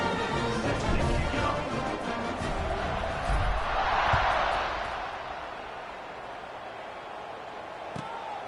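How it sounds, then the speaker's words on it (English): Stadium crowd at an LSU vs Oklahoma football game, a broad steady roar of many voices that swells briefly midway and settles back, with commentary faintly over it. "They're set to kick it off, and this crowd now ready to get behind them."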